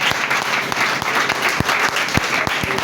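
A church congregation applauds steadily, with dense overlapping clapping and occasional sharper individual claps, filling the room at close range throughout.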